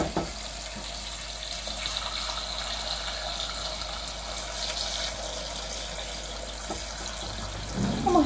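A kitchen tap runs cold water steadily into a sink or pot while cooking a vegan cottage pie, a constant hissing splash at moderate volume with a brief clatter at the end, no talk.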